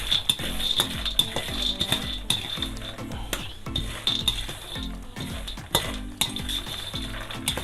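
Half a kilo of pistachios frying in desi ghee with a continuous crackling sizzle, while a metal spoon stirs and scrapes the pan in quick irregular clatters, close up and fairly loud.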